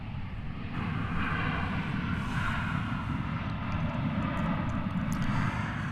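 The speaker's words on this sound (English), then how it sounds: "coming in from El Paso, Texas, and Airbus A321 was that aircraft" Airbus A321 airliner landing at DFW airport, a steady broadband engine roar that swells and then holds, heard at a distance with no talk over it.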